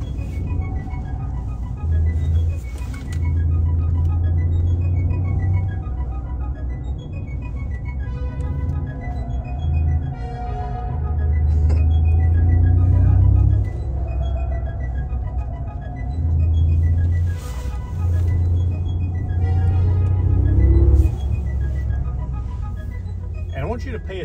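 A Mercedes-AMG wagon driven through a figure-eight, its engine a steady low rumble that swells and eases with the turns, mixed with road noise beneath someone talking throughout.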